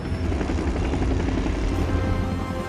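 A helicopter's steady, throbbing engine rumble fills the space, loud and continuous throughout.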